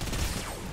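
Rapid rocket volley from a quad launcher in Fortnite: Battle Royale, a dense, sustained burst of launches and blasts filling the short moment, loud and continuous with no talk over it.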